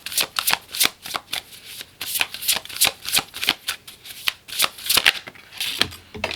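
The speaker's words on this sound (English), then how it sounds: "let me just pull one more card here to get an advice for this" Tarot cards riffle-shuffled in rapid bursts, a dense run of crisp flutters and snaps close by with no talk.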